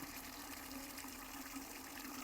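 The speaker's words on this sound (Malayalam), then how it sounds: "അപ്പം 3/4 ബക്കറ്റോളം എങ്കിലും വെള്ളം നിറച്ചിരിക്കണം." Water pours steadily into a bucket being filled to about three quarters for a tomato garden fertilizer slurry, a continuous, fairly faint gushing rush heard close with no talking.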